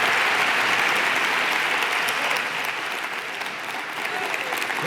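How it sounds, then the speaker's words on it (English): At a voting-rights event, an audience claps for Eric Holder in a loud, dense, continuous burst of applause that holds steady for about five seconds. "Please give Eric Holder a round of applause."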